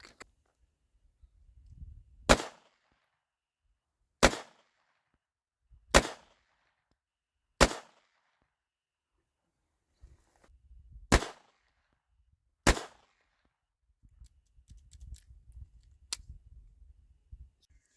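Mauser 1917 pistol firing .32 ACP FMJ rounds, six sharp, loud single shots spaced a second or two apart, with low rumbling handling noise between them and no talk.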